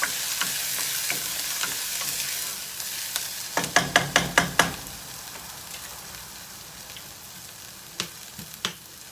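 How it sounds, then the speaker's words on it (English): Onions fry in a pan that is close by, giving a steady, hissing sizzle with a quick run of clacking stirs partway through and a couple of later knocks. "As you can hear, I'm nicely frying up"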